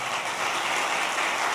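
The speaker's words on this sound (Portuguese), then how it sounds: "Uma salva de palmas aí" Steady, dense applause from an audience at a congress, a continuous clapping roar with no gaps or voices over it.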